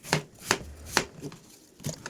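Sharp knife strikes on a cutting board, four or five spaced chops in an irregular rhythm, close and fairly loud.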